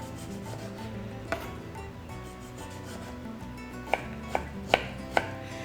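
Cubes of spaghetti squash are chopped on a board, heard as a single knock early on and then a quick cluster of four crisp chops near the end over a low background hum.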